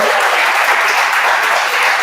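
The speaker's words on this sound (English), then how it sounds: "so a lot of applause" Loud, dense applause from a crowded audience at a web development bootcamp demo day in Lisbon, a continuous wash of clapping with no speech over it.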